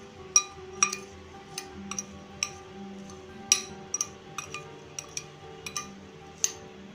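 A spoon stirs salt and chili powder for mango pickle in a bowl, giving scattered light clinks and taps at an irregular pace over a quiet background.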